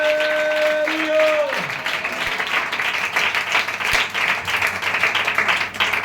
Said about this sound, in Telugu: గట్టిగా యేసు ప్రభువుకి చప్పట్లు